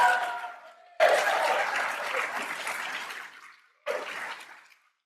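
An event audience at Princeton applauds for exonerees in two reverberant bursts of clapping, each swelling suddenly and then tapering off in a large hall.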